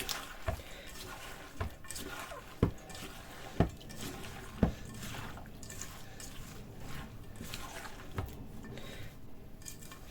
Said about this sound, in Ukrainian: Ось це добре перемішую.